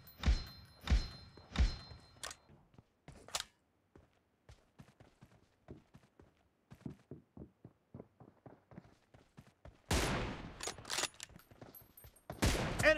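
Sharp gunshots and bursts of automatic fire from the mobile battle-royale game PUBG Mobile, loud clusters at the start and again near the end, with sparser quieter shots and thuds in between.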